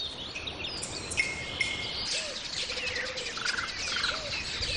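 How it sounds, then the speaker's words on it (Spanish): A sunbird, a nectar-feeding bird with a thin curved bill, gives high, thin chirps and short trills against a steady background hiss of insects. "Este pájaro sol, que también se alimenta de néctar, tiene un pico fino y curvo"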